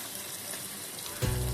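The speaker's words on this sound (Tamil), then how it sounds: "எண்ணெய் சூடாயிடுச்சு. நீளமாக கட் பண்ணி வச்சிருக்க வெங்காயத்தை போட்டுக்கலாம்." Long-sliced onions dropped into hot oil, a steady faint hiss that bursts into a louder sizzle near the end of the brief moment.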